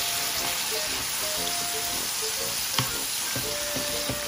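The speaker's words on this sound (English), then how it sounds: "So now you have to stir it or boil it until the sausage is turned brown." Turkey sausage frying and being stirred in a pan, a constant close crackling sizzle with scattered sharp pops and brief utensil ticks, no talking.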